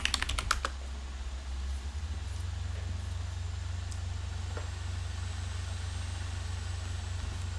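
Keys on a computer keyboard are struck to enter a password during an Oracle Database 23ai Free setup: a quick burst of close clicks at the start, then a few scattered keystrokes over a steady low machine hum.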